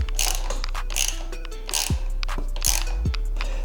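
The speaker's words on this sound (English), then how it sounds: "you can use the Allen wrench, 4mm, to just get it nice and snug" A 4mm Allen wrench snugs down a plastic fender bolt on a Surron/Segway electric dirt bike, producing a quick run of sharp mechanical clicks and scraping creaks close by, in short bursts.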